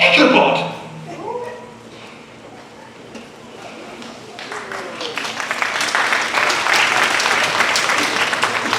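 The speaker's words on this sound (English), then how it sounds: "Stop clapping." An audience at a stage performance of The Legend of Sleepy Hollow breaks into applause, starting after a loud voice at the opening and swelling into dense, sustained clapping that holds steady to the end.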